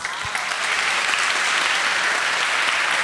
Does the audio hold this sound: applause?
yes